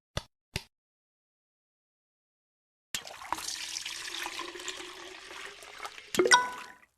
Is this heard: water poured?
yes